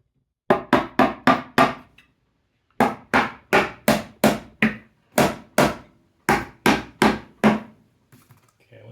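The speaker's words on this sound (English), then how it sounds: "ready to start tapping these dovetails together" Hammer taps on wooden drawer dovetail joints during a damaged-drawer repair: three quick bursts of sharp, close knocks, five, six, then four blows each, with short pauses between and no talking.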